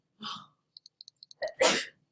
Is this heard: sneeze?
yes